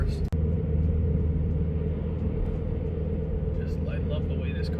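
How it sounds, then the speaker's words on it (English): A car's engine rumbles while driving, with a steady low drone and road noise throughout, a brief dropout near the start and faint chirping sounds toward the end. "I love the way this car sounds."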